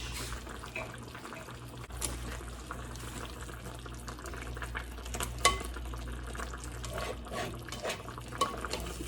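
Chopped garlic is stirred into a chicken tagine in a pot, a continuous wet scraping and bubbling simmer with occasional utensil clinks, close and steady.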